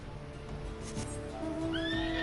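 The Arion horse mount in the video game Final Fantasy XIV gives a short, clear whinnying neigh that rises in pitch, over faint game background sound.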